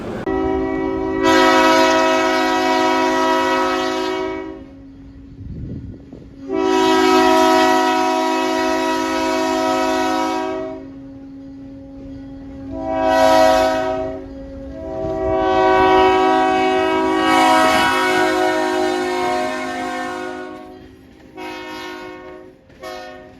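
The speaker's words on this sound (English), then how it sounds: "He gave us a nice horn salute." A heritage train horn blasts in long sustained chords at a railroad museum, repeated several times with short gaps, loud and close over the low rumble of a passing train.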